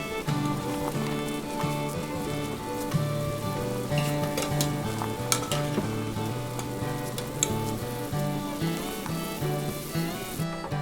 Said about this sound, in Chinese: 油热后先爆香生姜和大蒜， 再倒入焯过水的鸭肉一起翻炒